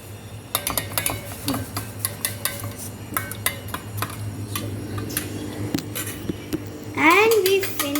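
Cutlery stirring and tapping through an omelette mixture in a bowl, giving a quick run of sharp clicks and clinks nearby, with a voice speaking briefly near the end.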